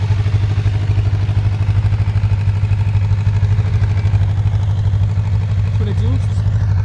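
A Suzuki GSX750F motorcycle engine running close by, a loud steady idle with a low pulsing throb and mechanical clatter, with someone talking over it.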